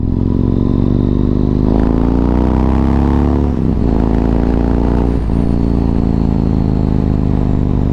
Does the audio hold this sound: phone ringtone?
no